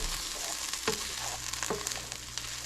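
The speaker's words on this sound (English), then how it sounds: "We're going to mix it together here." Beans, onion and rice being stirred together in a hot pan for carne asada bowls, giving a steady close sizzle broken by a few scraping strokes of the spoon.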